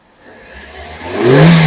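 A Hyundai Grand i10 engine revs under the accelerator, the tone climbing steadily from a low idle to a loud, strained peak near the end, close by and with no talk.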